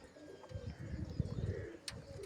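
A pigeon coos once, a soft low throaty call lasting about a second and a half, close by, with a brief faint chirp near the end.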